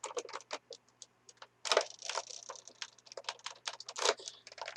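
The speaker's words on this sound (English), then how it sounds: "Cut them open very carefully, just to cut off the heads of these straps here." A knife cuts the strap heads on wrestling figure playset packaging, giving a quick series of close, sharp clicks and plastic snips, sometimes in short bursts with brief pauses, no talking.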